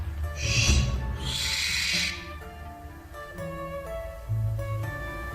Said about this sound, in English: But then came the barn owl